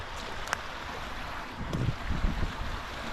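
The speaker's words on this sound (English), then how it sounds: "Have a look, it's a babbling brook." A babbling brook on a nature walk at Anglezarke, with a steady rushing wash of flowing water mixed with outdoor wind noise and a few faint splashy surges, with no talk.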